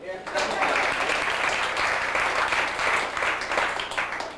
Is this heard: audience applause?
yes